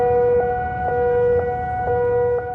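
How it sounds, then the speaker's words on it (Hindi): Air-raid sirens wail across the high-security Green Zone in Baghdad after an attack on the US embassy, a loud steady tonal howl pulsing in a regular rhythm. "इस बार बगदाद के हाई सिक्योरिटी वाले ग्रीन जोन में अमेरिकी एम्बेसी पर अटैक किया गया, जिसके बाद पूरा इलाका सायरन की आवाज से गूंज उठा।"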